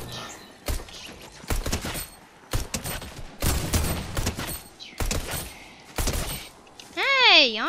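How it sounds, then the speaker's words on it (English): Fortnite gunfire rattles in bursts of rapid shots, loud and close, with short pauses between volleys, while people talk over the action and a warbling tone sounds near the end. "Hey, I'm shooting him."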